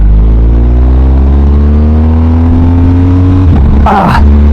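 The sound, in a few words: BMW R 1250 GS motorcycle engine while shifting gears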